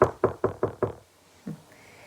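Five sharp knocks on a door in a quick, even rhythm, close and clear, followed by a single softer thud and then quiet.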